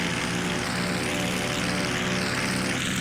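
Twin propeller engines of a B-25 Mitchell bomber in flight, a loud steady droning roar with a constant engine hum close by, after takeoff with gear coming up.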